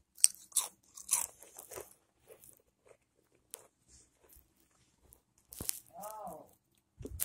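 Close crunchy bites and chewing of salted cheese come in short, scattered bursts separated by near silence, with a brief voiced sound near the end.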